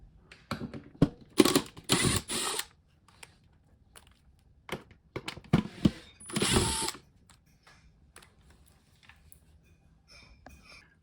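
A power drill fitted with a number 2 square drive bit backs out screws from a Frigidaire refrigerator's water dispenser panel, giving several short bursts of whirring spin with quiet pauses between them.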